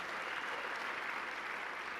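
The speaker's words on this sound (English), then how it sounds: "you can clap to that." A crowd claps steadily in dense, continuous applause at a Buffalo mayoral inauguration ceremony, fairly loud and even throughout with no pauses.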